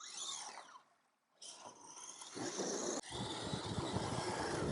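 An MJX H12+ monster RC car's electric motor strains to climb out of a deep pit, whining and revving in bursts with a brief pause, then a sustained rough grinding drive close to the microphone.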